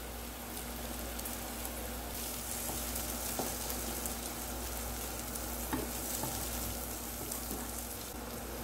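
Shredded cabbage stir-fries in a hot pan for homemade egg fried rice, a continuous loud sizzle with scraping stirs and occasional clicks of the spatula.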